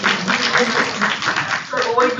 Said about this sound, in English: I request you all to warmly welcome Dr. Babu with a round of applause